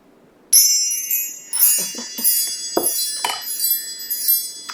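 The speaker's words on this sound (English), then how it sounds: "Let's call in spirit with some wind chime time." Wind chimes struck into motion, a bright cascade of overlapping metallic tinkles that rings on and slowly decays, loud and close with no talk.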